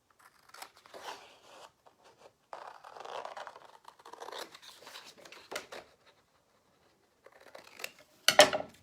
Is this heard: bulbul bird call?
no